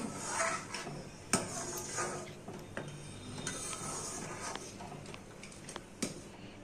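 A spoon stirs milk with powdered milk, condensed milk and a torn bay leaf in a pot for sago rasmalai, making quiet, irregular clinks and scrapes against the metal with a few sharper knocks.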